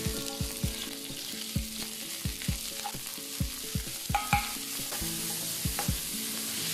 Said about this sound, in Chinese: 下所有料头爆香